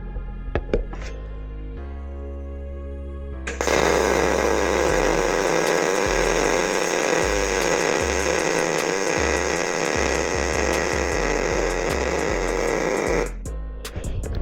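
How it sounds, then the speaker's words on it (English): MIG welding with a Miller Multimatic 215 Pro: a loud, steady crackling buzz of the arc lasting about ten seconds, close by, after a quieter humming lead-in and before it cuts off sharply. "Give it a weld, see how it feels."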